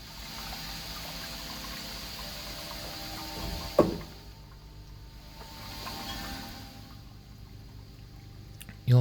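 Water drains from freshly hand-dyed yarn, first as a pouring stream, then a sharp clunk and a thin trickle that continues quietly, ending with a knock.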